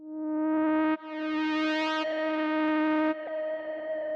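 Sustained synth tone resampled from Omnisphere, with a shimmering, sweeping ambient texture that swells and shifts, smooth and steady without any voices.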